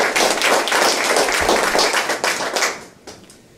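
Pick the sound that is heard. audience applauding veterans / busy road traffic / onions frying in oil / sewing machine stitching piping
audience applauding veterans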